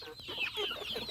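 Chickens cluck and chatter close by as they are fed, a busy overlapping run of short calls and scratchy bird noises lasting about a second.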